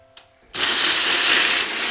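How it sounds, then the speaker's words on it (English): A blender blitzing oven-roasted autumn vegetables into a thick soup: after a brief quiet start, a loud, steady whirring roar kicks in and runs without a break to the end. "blender and blitz it."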